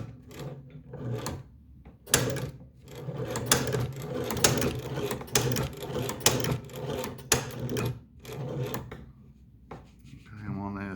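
A China-made leather shoe patcher sewing machine stitches a diamond pattern in leather, giving a steady close mechanical chatter in bursts with short pauses, with a rapid final run near the end.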